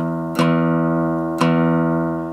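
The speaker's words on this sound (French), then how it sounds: "La même chose en jouant un accord, toujours des coups de médiator vers le bas." Two strummed guitar chords, each a sharp pick downstroke followed by a long ringing sustain that slowly fades, about a second apart.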